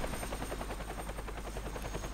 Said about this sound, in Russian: И вот у нас улетает вертолет